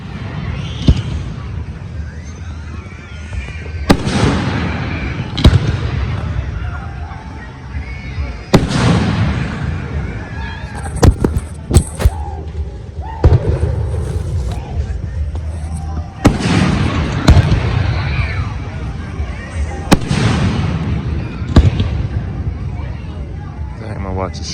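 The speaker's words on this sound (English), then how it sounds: "the fireworks were already starting." Festival fireworks burst in a series of sharp, booming explosions spaced several seconds apart, some in quick clusters, over a crowd murmur and nearby talking.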